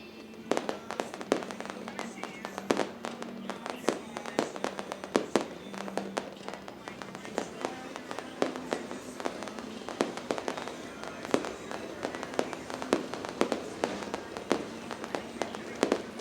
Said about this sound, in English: AM Pyrotechnics with the fireworks display.